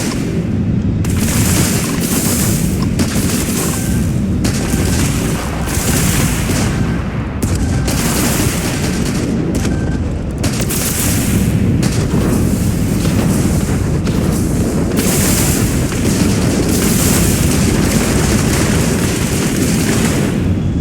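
Dense, continuous weapons fire and explosions in the space game Starfield, with booming blasts and rapid gunshot bursts layered over a constant loud battle roar for the whole stretch.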